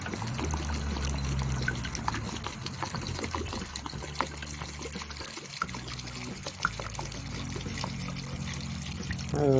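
Water pours steadily into a container for several seconds, a continuous close splashing fill with a few brief sputters.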